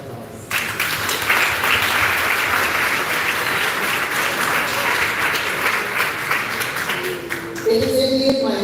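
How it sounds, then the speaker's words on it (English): Dense, loud applause from a graduation audience honoring the Tacky High School class of 2025, starting abruptly after a brief pause and holding steady for several seconds before easing as a voice and tones come in at the end. "Parents, please join me in giving our graduates a warm round of applause."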